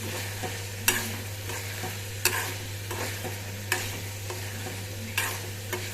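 Tamarind mixture for tamarind rice cooking in a pan, a soft steady sizzle and bubbling under a constant low hum, with periodic sharp scraping stirs of a spoon about every second and a half.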